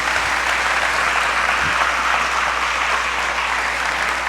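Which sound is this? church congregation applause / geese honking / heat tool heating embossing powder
church congregation applause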